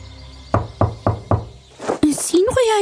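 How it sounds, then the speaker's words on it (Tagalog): Four loud, evenly spaced knocks strike a door close by, followed by a short pause and then voices talking. "Sobra naman makakatok ng pinto."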